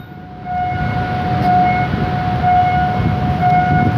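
Express train 83 passing the Charansanitwong Road level crossing after leaving the Thonburi station yard, heard as a steady loud rumble with a sustained tonal horn or crossing-signal whine running throughout.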